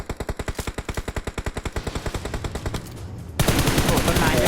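Automatic gunfire in the mobile shooter game PUBG Mobile: a rapid, evenly spaced burst of shots that slows and thins out, followed by a sudden dense roar of sound.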